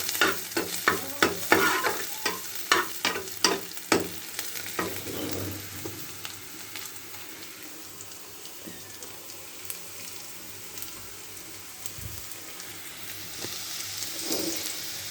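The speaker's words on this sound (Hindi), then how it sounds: "इसको हम चढ़ा देते हैं चूल्हे पे और फिर जो है तड़के की तैयारी कर लेते हैं और तड़का लगा लेते हैं।" Spices tempering in hot oil for village-style dal, a burst of loud crackling sizzle with sharp pops and stirring clatter at first, then fading to a quieter steady fry.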